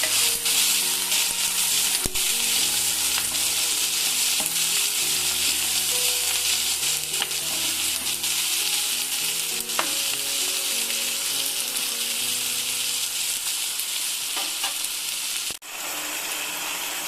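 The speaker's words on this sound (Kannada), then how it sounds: "ಸ್ವಲ್ಪ ಟರ್ಮರಿಕ್ ಹಾಕೋಣ. ಎಲ್ಲ ಒಂದು ಮಿಕ್ಸ್ ಕೊಡಿ ಸ್ನೇಹಿತರೆ." Egg bhurji with turmeric, tomato and ginger-garlic paste sizzles loudly and steadily in a pan, with scattered scraping clicks from stirring throughout and no voices.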